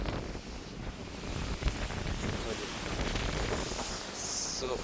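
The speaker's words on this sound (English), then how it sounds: "So fucking windy." Strong wind blowing outdoors, a steady broadband roar buffeting the microphone with gusts that swell and ease throughout, loud and close.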